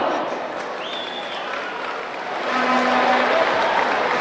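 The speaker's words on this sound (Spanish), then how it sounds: "Fuerte los aplausos." Crowd applause at an outdoor political rally in Santa Cruz, Bolivia, a steady broadband wash of clapping and crowd noise that builds slightly toward the end.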